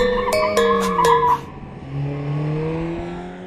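An older Mercedes-AMG A45 with a 7-speed dual-clutch automatic drifting sideways: loud, sustained tire squeal that wavers in pitch, then the engine drones on at a lower, steadier level.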